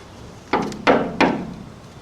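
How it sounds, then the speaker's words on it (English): Three loud, heavy knocks strike a wooden gate at a steady, deliberate pace, each ringing briefly before the next, with no voices over them. "What's he that knocks as he would beat down the gate?"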